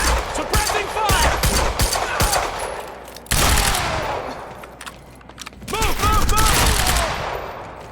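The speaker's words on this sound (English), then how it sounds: "Suppressing fire!" Bursts of machine gun suppressing fire in the shooter video game Quantum Break arrive as loud rapid fusillades with brief pauses between them, and voices are heard in the game mix.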